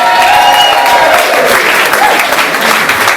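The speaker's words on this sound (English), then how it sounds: "Give him a round of applause," An evening theatre audience gives loud, sustained applause as a performer named Ben Cardo comes on stage, a close, dense wash of clapping with a few faint voices in it.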